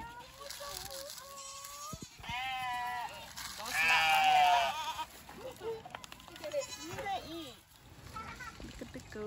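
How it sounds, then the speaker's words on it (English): Several goats bleat loudly and repeatedly on a farm, wavering cries rising and falling, with people chattering and laughing nearby. "Look at the goats."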